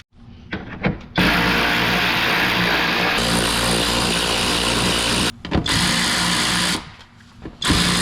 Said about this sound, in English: let's start undoing a million screws